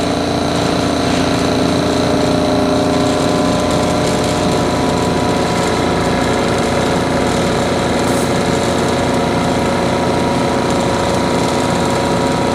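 Loud, steady mechanical drone of a laboratory vacuum system running during solid-liquid extraction, constant motor hum with a buzzing rattle, unbroken for the whole stretch.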